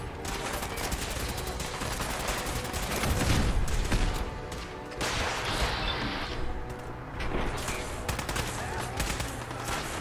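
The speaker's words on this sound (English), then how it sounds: "You've got to love firing the cannons just because it's so silly." Cannon fire in the video game Fallout 4, heard as a dense, continuous barrage of loud blasts and crashing impacts over the whole stretch. The volume swells in the middle with heavy booms, and the firing stays steady and close throughout.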